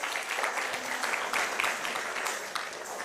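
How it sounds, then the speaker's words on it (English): Applause from an audience at a Janmashtami satsang for the dancers, a steady wash of many hands clapping at moderate distance, even in level from start to finish. "Another round of applause for all these wonderful dancers."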